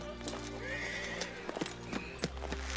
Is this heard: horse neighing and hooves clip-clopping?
yes